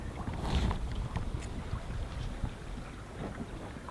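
A small sailboat moves through gusty wind under a small craft advisory. Wind buffets and water sloshes in soft, uneven surges, fairly faint, with no voices.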